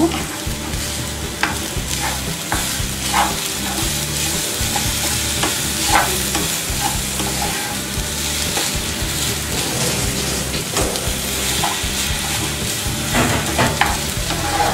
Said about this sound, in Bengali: নারকেল কুড়ানো দিয়ে দিব দিয়ে এগুলোকে ভালো করে মিশিয়ে দিব